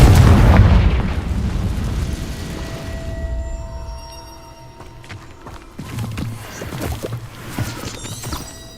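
Confringo fire spell exploding in Hogwarts Legacy: a loud, deep blast with debris up front, fading into rumbling tail and scattered smaller crackles and pops later.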